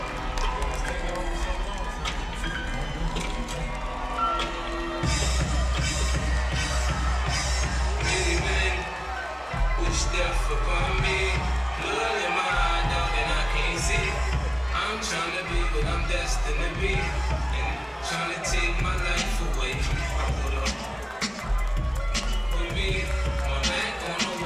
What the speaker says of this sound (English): Listen to the ovation he gets when he gets into the ring.